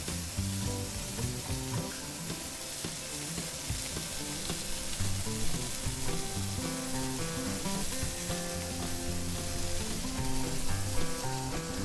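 Mushrooms frying on a hot griddle beside beef burgers give off a steady, dense sizzle with crackling pops, continuous and fairly loud throughout.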